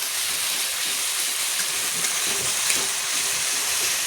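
Spice paste for Bengali fish curry frying in a pan with a splash of water, a steady dense sizzle with faint stirring scrapes, continuous and close with no talk.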